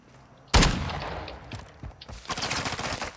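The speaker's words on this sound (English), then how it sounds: "There's someone shooting at me. Oh my god, yep. I'm taking fire!" Gunfire in the Call of Duty Modern Warfare (2022) battle royale, opening with a sudden loud close burst, then scattered shots and a dense volley of automatic fire toward the end.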